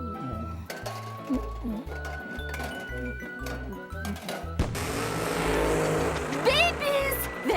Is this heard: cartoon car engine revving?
yes